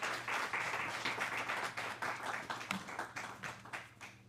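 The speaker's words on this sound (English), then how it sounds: "please help me give a round of applause to Dr. Cadeau." An audience at a heritage conference gives a speaker a round of applause, steady fast clapping from many hands heard faintly from a distance, lasting a few seconds.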